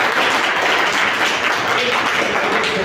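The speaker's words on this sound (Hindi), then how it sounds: "एक बार इनके लिए बेहतरीन तालियां हो जाएगी" An audience in a school hall applauds, a dense, loud, steady wash of many hands clapping together throughout the short stretch.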